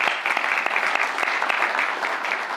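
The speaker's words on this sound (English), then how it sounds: "Another round of applause." Steady, full applause from an audience at an awards and installation ceremony, with dense rapid clapping sustained throughout.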